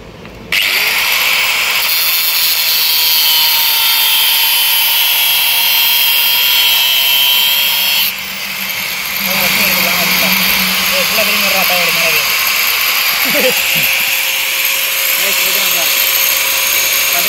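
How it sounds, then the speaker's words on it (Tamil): A power tool cuts away part of a petrol motorcycle being converted to an electric hybrid rear-wheel drive, a loud steady whine running nearly throughout with a brief dip partway, while people talk over it. "பார்த்தீங்கன்னா கட் பண்ணி எடுக்க போகிறோம்."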